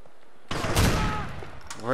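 Pistol gunfire in Grand Theft Auto 4 with a realism mod: a sudden loud shot after a quiet moment, ringing out with a long echoing tail, followed by a short vocal sound at the end.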